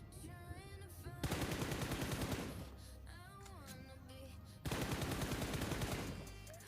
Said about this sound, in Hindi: और राइट से मुझे शॉट आया।